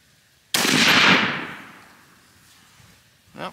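Single suppressed shot from a 6mm ARC rifle with a suppressor fitted, a sharp muffled crack that rings out and decays over about two seconds, followed by a faint short clatter.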